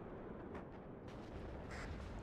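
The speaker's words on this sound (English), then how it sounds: "Fuel explosion, that should be gone." A fuel explosion in the real-time strategy game WARNO, heard as a few dull distant booms and cracks rumbling through a dense, noisy battlefield din.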